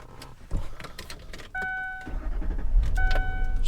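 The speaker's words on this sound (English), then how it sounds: "Starts right up, no issues." A 2005 Ford Thunderbird 50th Anniversary Edition cranks and fires up, with a short whirring starter and chimes before the engine catches and settles into a steady, close idle rumble.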